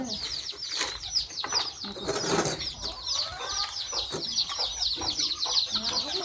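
Chickens raised at a rural home cluck and chatter in quick repeated bursts, fairly close, with occasional rustling and wing movement.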